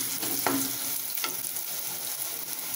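Onions sautéing in a pan for a chickpea curry, a steady crackling hiss with a couple of brief sharper scrapes of stirring.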